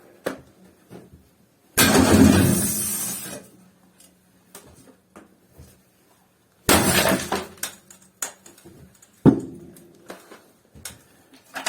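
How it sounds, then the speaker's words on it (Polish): Glass on a CRT television screen is smashed in two loud, sharp crashing bursts several seconds apart, each trailing off into tinkling shards, with scattered clinks and small impacts between them and no talking. "Ja rozbijam ten obraz i zobaczymy co w środku takiego obrazu siedzi"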